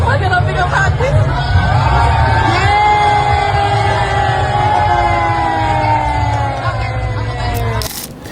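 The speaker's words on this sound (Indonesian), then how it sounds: "Habis itu mereka bersorak." Young people gathered in front of a liquor counter break into loud, sustained cheering and whooping after a Quranic recitation, a close, raucous chorus of voices that fades at the end.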